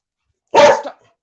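A dog named Cooper barks once indoors, a single loud, close, harsh bark that trails off quickly, with no talk over it.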